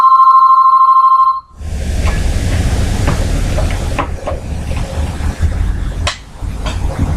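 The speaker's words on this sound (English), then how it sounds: "Sorry, I got a phone call in between that just took away my attention for a few seconds." An incoming call makes a telephone ring loud and close with a steady electronic tone that cuts off after about a second and a half, leaving a rumbling, hissing background with scattered clicks.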